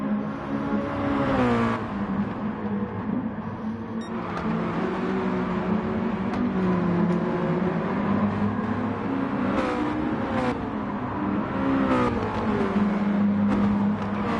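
Mazda touring race cars lapping Tsukuba Circuit in a racing video game, a dense continuous engine drone with shifting revs and gear changes from several cars at once, steady and loud with no talk.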